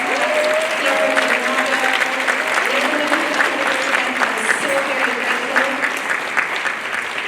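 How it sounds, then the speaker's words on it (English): A large audience at an award ceremony claps steadily in a dense, sustained wash of applause, with a voice talking faintly underneath. "can we get a huge round of applause for Alex Damrell and his team?"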